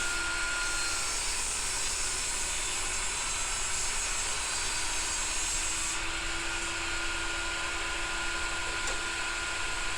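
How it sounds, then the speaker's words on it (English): A table saw with its blade set at 90 degrees rips a pine board to 2 inches wide, giving a loud, steady, continuous machine whine and rushing noise that holds for the whole stretch with no talking. "I reset the blade to 90 degrees and rip another piece of pine to 2 inches wide."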